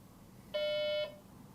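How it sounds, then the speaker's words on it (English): A single short electronic beep, clear and tonal, sounds over a faint background hum. "the device emits a sudden beep, then another"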